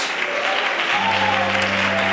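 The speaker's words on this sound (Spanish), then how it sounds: "Oh, aplauda la gloria de Dios" Applause from a church congregation at a Sunday school service in Colombia, a steady wash of many hands clapping at once, with sustained low tones entering partway through, likely from an organ or keyboard.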